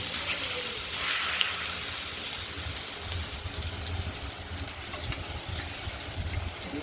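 Potatoes frying in oil with spices, likely Bengali tempering, give a steady close sizzle and hiss with occasional stirring scrapes and no talk.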